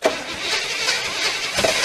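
An old engine being brought back to life cranks steadily and catches briefly, giving a short rough firing burst toward the end, loud and close with no talk.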